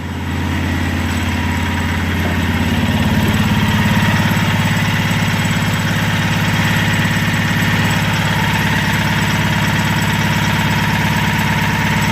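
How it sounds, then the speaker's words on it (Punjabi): A Mahindra Maxximo engine idles steadily right after a head gasket replacement, a loud, close, even drone that holds for the whole stretch with no talking. "ਗੱਡੀ ਸਟਾਰਟ ਹੋ ਗਈ ਆ ਇਹਦੀ, ਐਨ ਬਿਲਕੁਲ ਓਕੇ ਆਵਾਜ਼ ਆ ਗੱਡੀ"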